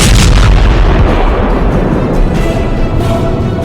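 Loud, continuous rumbling booms of heavy explosions from Indian Air Force fighter jet strikes at Pokhran firing range, one blast blending into the next with no pause and no voices.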